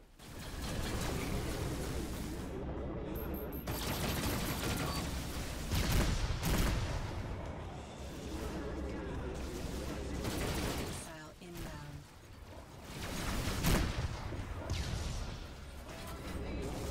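Spaceship gunfire in the space combat game Rebel Galaxy Outlaw: rapid bursts of blasts and impacts come in dense volleys with brief lulls, loud and close, with occasional crashing hits.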